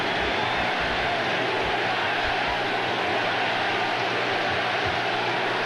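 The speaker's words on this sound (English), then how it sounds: "it's been a long time since the crowd's gotten behind this team like they are here today. Just listen to them. They're on their feet." A stadium crowd at a 1995 Arkansas at LSU college football game roars in a steady, dense wall of cheering, loud and continuous throughout without pause.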